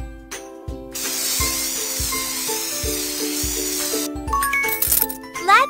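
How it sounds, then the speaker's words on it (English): Hair spray hisses in a pony salon video game, a steady spray lasting a few seconds over light cheerful game music with chiming tones. "Shake it and spray it."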